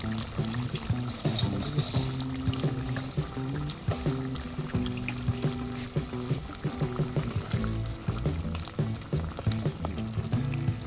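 Fried puti fish going into a simmering tomato and mustard curry: a steady, close bubbling sizzle that runs the whole time under a tonal musical backdrop.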